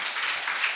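A crowd claps together in a hall, a brief burst of dense, steady applause.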